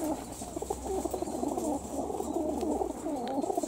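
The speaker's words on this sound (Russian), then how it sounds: "Голуби в ожидании полета." High-flying pigeons cooing before flight, many soft overlapping coos in a steady, busy chorus close by, with a low hum underneath.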